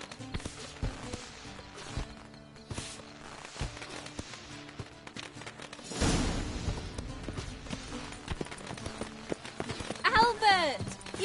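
Horse hooves clip-clop steadily in The Witcher 3, a rhythmic, fairly close walking gait that continues throughout, mixed with other game sounds and a swell of noise midway, while voices speak over it.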